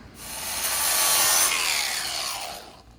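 An angle grinder fitted with a flap disc works steadily across a surface for about three seconds, a loud, continuous abrasive rasp with no talking.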